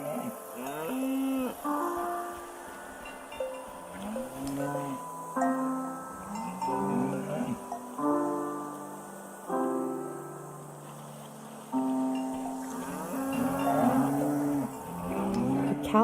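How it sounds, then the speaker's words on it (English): Cows in the video game Season: A Letter to the Future moo repeatedly, their long, drawn-out calls rising and falling in close succession over a steady ambient backdrop, with no talking. "The name of this cow is TVC15, oh my."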